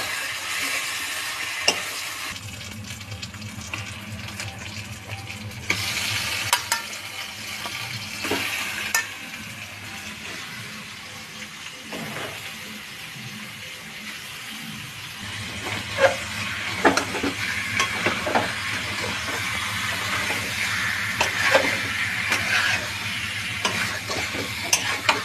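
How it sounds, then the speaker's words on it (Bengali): Chicken pieces fry in spice-laden oil for chicken kosha, giving a steady sizzle and hiss with repeated scraping and clattering of a stirring spoon against the pan, close and fairly loud throughout, with no talking. "মশলা থেকে তেলটা ছেড়ে এসছে, এবার আমি চিকেনটা দিয়ে দেবো।"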